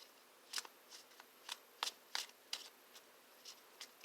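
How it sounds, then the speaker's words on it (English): Small playing cards are shuffled by hand, a quiet series of brief crisp riffling bursts and flutters in an irregular rhythm, close and soft, with no talking. "shuffle them like this"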